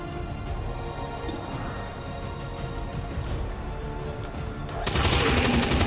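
Rapid, continuous Gatling gun fire from the video game XCOM 2: War of the Chosen, a dense stream of shots that swells louder and brighter near the end.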